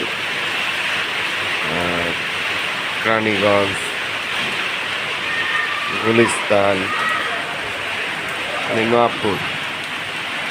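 Heavy rain pours down in a steady downpour, a dense continuous hiss that runs throughout while someone talks over it in several short bursts.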